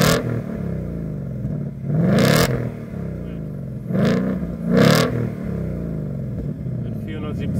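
A 2022 Ford Mustang GT convertible with performance package and 470 hp V8 revs three times in quick succession, each blip rising and falling over a steady idle rumble, with someone talking over the sound.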